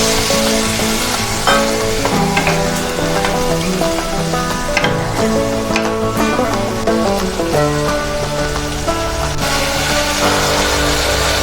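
Chicken curry masala cooking down with a splash of water for a Bengali-style chicken jhol, loud bubbling sizzle with frequent scraping and stirring clatter, close and steady throughout, no one speaking.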